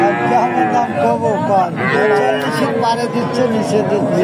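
Cattle low and moo at a busy rural cattle market at Talgachhi haat in Sirajganj, the calls rising and falling close by while people talk and bargain around them.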